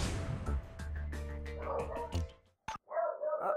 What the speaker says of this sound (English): Oh, those dogs are silly.